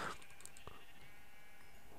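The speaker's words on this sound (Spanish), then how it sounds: "Ovejas, ovejas, ovejas." Minecraft sheep bleat faintly, a short bleat or two against a steady background hum, with no voices.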